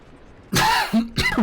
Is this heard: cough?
yes